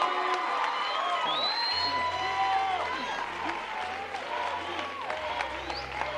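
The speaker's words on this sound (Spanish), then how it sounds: "Aquí están tus profesores aplaudiendo de pie. El público también" Teachers and audience at La Academia singing competition give a standing ovation, a crowd cheering, whooping and clapping loudly as a sustained low music tone plays beneath.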